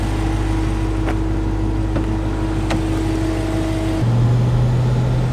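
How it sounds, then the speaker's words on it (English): The supercharger blower on a 2023 Dodge Charger Hellcat Redeye whines steadily and loudly with the engine drone beneath it, then shifts to a lower, heavier tone near the end, with no voices. "I love that blower, that whine."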